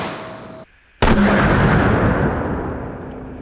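.500 revolver gunshot firing a 390 grain spire point bullet through a row of cast iron skillets: a sudden loud blast after a brief silence, with a long, heavy reverberating tail that slowly fades.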